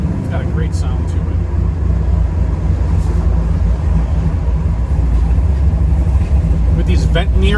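A 1967 Chevrolet Camaro muscle car engine runs with a steady low rumble, continuous and moderately loud from start to finish.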